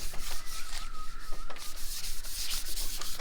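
Steady rubbing strokes of 800-grit sandpaper over a primed Jeep TJ hard half top, close and continuous with a faint tonal squeak running through.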